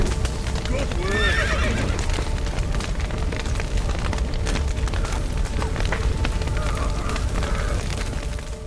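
Horses neigh and whinny in The Witcher 3, a couple of loud, shrill whinnies early on and a fainter one later, over hoof clatter, rumbling fire and shouting voices in a chaotic game scene.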